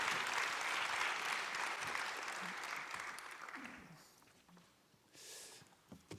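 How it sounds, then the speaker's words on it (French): Audience at a morning conference session applauding the speakers, a broad wash of clapping that is strong at first, then thins and fades out over several seconds, leaving scattered room noise. "Je vous propose de les applaudir."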